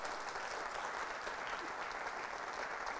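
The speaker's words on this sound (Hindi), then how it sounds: "तालियां जोरों से बजाइए आपके लिए।" An audience claps for the chief guest at a charity quiz event held for a cancer hospital, producing a steady, fairly faint wash of applause that fills the whole few seconds without any voices.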